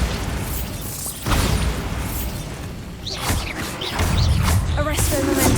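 Bombarda blasting spell explosions from Hogwarts Legacy: several loud booming bursts, about one every second or two, each with a rumbling, crackling tail over continuous game noise.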